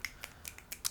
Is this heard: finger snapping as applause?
yes